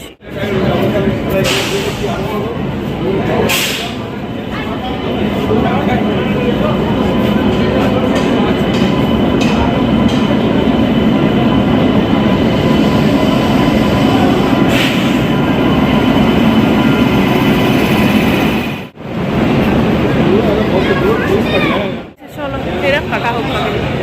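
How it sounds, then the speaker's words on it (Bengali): A train rolls into a station platform with a loud, continuous rumble of wheels and carriages, brief gaps of near silence, and a crowd chattering and talking throughout. "ট্রেন ঢুকছে নামবে তো সবাই নামুক তারপরে উঠবো আমরা"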